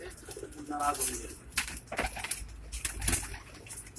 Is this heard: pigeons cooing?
yes